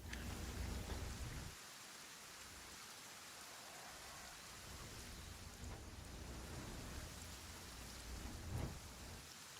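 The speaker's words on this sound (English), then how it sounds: "This rain sound is pretty interesting." Steady rain falls in the survival game Kenshi, a dense, even hiss of drops with low rumbling undertones, briefly heavier at the start and swelling slightly again near the end, with no voices.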